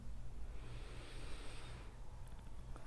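A long, deep exhale during a yoga breathing exercise for bruxism, a soft airy rush lasting about two seconds close to the microphone, faint and alone, trailing into quiet.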